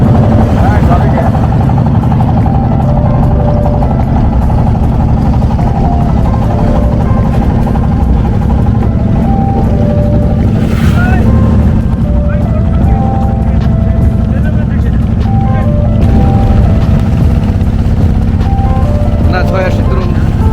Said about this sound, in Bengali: ঘুরতেছে আমাদের নৌকাটা